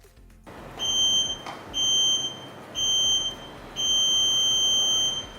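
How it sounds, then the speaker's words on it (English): A workout interval timer alarm sounds four times as loud, shrill electronic beeping bursts about a second apart, each lasting under a second, over a faint background hiss. "Let's push till that timer goes."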